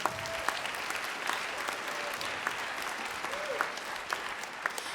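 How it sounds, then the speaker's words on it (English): A church congregation applauds during a sermon, steady dense clapping with occasional sharper individual claps standing out and faint voices mixed in throughout. "Yes, clap for that, come on."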